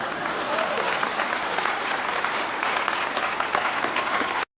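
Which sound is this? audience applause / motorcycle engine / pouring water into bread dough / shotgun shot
audience applause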